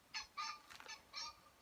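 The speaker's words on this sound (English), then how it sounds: "you hear the bird." Outdoors in rural Japan, a goose honks four or five times in a quick uneven series, faint and at a distance over a quiet background, with no one speaking.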